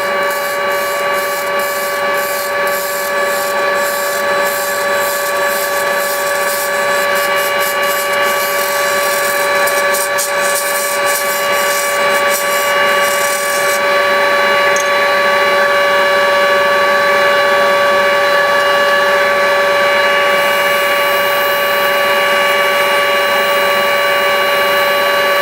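Wood lathe turning a piece of scrap while a dust extractor runs alongside, giving a loud, steady whine with a constant broadband roar and tonal hum for the whole stretch, and no talking.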